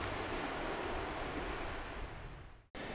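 Waves break and wash steadily onto a wide sandy beach on the island of Tiree, a continuous loud roar of surf with wind that cuts off abruptly near the end.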